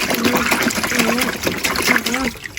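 Water poured and splashing while a child bathes a doll, a close trickling, gushing stream heard under loud, playful talk.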